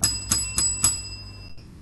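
Bell at an engineering academic conference, pressed repeatedly to signal time is up: four quick bright rings in steady rhythm within about a second, close and clear, then fading away.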